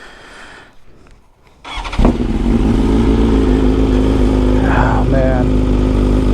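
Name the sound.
BMW S1000RR motorcycle cold start, Akrapovic exhaust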